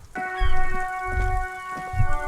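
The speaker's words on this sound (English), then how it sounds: "All around you, rain falls on the great city of Revachol." Rain falls steadily in the video game Disco Elysium, a soft hiss with heavier gusting patches, set against sustained tonal game music.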